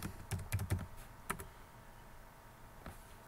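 Close, quiet keystrokes on a computer keyboard as a username and password are entered: a quick cluster of clicks, then a few scattered single taps.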